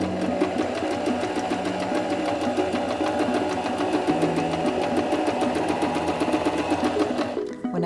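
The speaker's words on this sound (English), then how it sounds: "step on the foot control to start sewing" A SINGER M2100 sewing machine runs a straight stitch through fabric in one continuous, close, steady mechanical whir with a rapid needle rhythm, stopping abruptly at the end.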